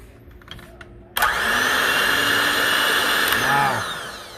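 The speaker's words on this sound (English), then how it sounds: "Wow, a lot more load on the motor." An electric motor, likely a drill or mixer, starts abruptly and runs steadily in cold high-mileage motor oil during a cold pour test, its whine loud and sustained with a slight dip in pitch under heavier load before easing off.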